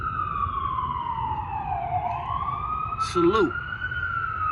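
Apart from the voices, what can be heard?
emergency vehicle sirens in New York City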